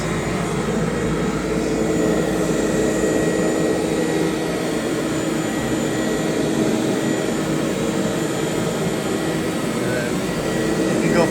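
A budget carpet cleaning machine runs with its brush spinning, producing a loud, steady whirring motor drone that holds evenly from start to finish.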